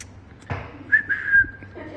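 After a short breathy rush, a person whistles one thin, wavering note for about half a second, faint and unsteady.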